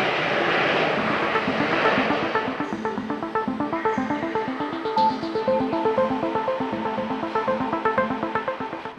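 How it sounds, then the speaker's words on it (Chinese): An airplane taking off or landing in Taiwan gives a loud, steady engine roar that drones on and pulses evenly throughout, with no voices. "起飞、降落，台湾一年有28万架次飞机来来往往"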